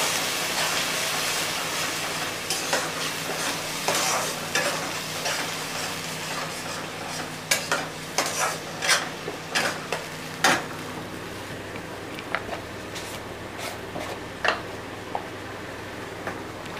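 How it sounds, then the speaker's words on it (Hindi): Onion-tomato paste sizzles and fries in a pan for a chhole bhature dish, a steady hiss with scraping stir strokes growing more distinct toward the end, close and fairly loud with no talk. "मैं ये प्याज टमाटर वाला पेस्ट डाल देती हूँ।"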